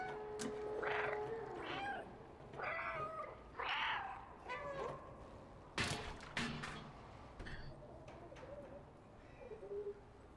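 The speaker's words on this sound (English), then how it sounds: "And then spam your meow button." In the video game Stray, the cat meows repeatedly in quick succession, several distinct meows rising over a quiet background with an occasional sharp click.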